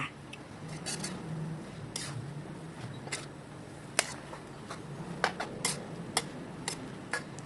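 Glass noodles and water mimosa with fresh shrimp are stir-fried in a pan: a spatula gives irregular metallic clinks and scrapes over a soft, steady background hiss, close and moderately loud.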